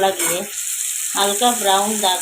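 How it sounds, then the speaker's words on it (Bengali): Cashew nuts fry slowly in oil in a pan, alongside onion and garlic, giving a bright, crackling sizzle that swells and fades under a voice talking over the cooking. "এবার এটাকে আস্তে আস্তে করে আমি ভাজবো"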